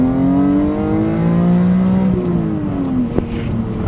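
A BMW M3 E46 Touring engine revs hard under acceleration, its rising engine note loud and close, climbing steadily through the gear with a brief shift partway before pulling again.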